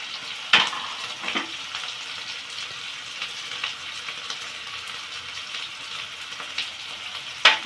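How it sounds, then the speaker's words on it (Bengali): Turmeric, chili powder and salt are sautéed in oil for koi fish curry, giving a steady soft sizzle broken by a few sharp spatula scrapes near the start and the end. "এটা দিয়ে এখন ভালো করে একটু কষিয়ে নেব।"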